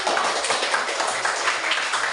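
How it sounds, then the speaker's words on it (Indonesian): A classroom of students claps together at a teacher's request, a soft, even patter of many hands lasting a couple of seconds and heard somewhat distantly, with no voices over it. "Oke, luar biasa, tepuk tangan dulu"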